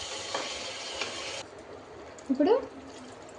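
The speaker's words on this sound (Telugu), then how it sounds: "2 గ్లాస్ వాటర్ వేసుకుంటున్నాను" Water poured into a hot pan of Chettinad chicken curry after the oil has separated brings a loud broadband hiss for about a second and a half, then it settles to a quiet simmer while a voice speaks briefly.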